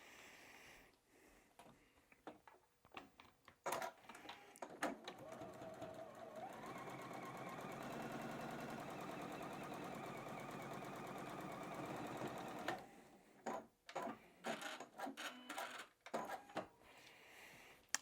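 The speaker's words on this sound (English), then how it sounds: "I'm going to sew these 2 squares together first" A sewing machine stitches two quilt squares together, starting after a few handling clicks, then running steadily and loudly for about eight seconds before stopping, followed by soft rustles and taps of fabric being handled.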